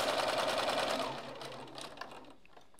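A sewing machine stitching a flannel blanket runs in a fast, close whir, slows and stops partway through, and leaves faint clicks and low noise behind.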